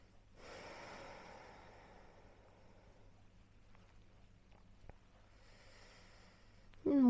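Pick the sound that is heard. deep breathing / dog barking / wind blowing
deep breathing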